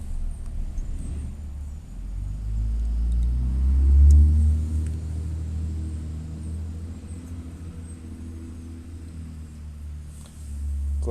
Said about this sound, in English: There's more traffic today than usual.